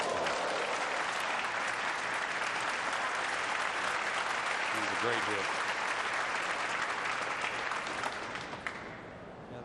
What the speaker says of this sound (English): that one drew applause